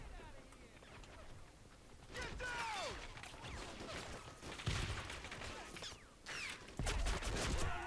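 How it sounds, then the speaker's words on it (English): In the Cold War mod of the video game Men of War Assault Squad 2, a dense urban battle rattles with gunfire and crashing impacts, including a sharp grenade blast, loud and continuous with no clear talk. "Ooh, that was a really good grenade."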